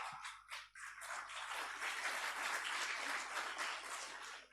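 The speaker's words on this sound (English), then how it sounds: "So please give a big round of applause." Audience applause fills a symposium hall on disaster management, a steady broad burst of clapping from a large crowd that swells quickly and holds at full strength for several seconds.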